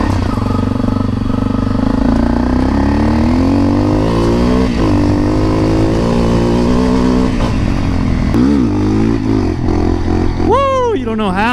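A Honda CRF250L motorcycle with a freshly swapped clutch rides along loudly and close, its engine droning and rising through gear changes, with wind rush throughout and a sharp rev sweep near the end.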